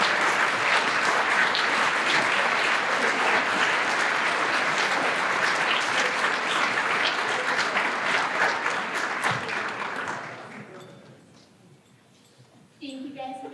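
Loud, dense audience applause at a senior awards night, sustained for about ten seconds before thinning out and fading, with a brief burst of noise at the very end.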